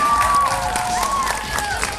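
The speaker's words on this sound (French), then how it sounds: "Bravo, on applaudit les Bleus, s'il vous plaît." Brief burst of studio audience clapping and cheering for a team on a children's game show, dense and lively, with a voice and whistle-like tones riding over the crowd.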